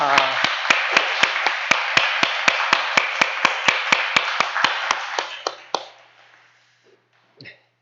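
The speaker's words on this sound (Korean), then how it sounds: "아멘. 박수 함께 응원입니다." A church congregation claps together in a steady rhythmic beat, about twenty sharp claps in a row that stop abruptly, followed by quiet and a few faint taps.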